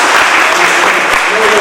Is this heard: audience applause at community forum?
yes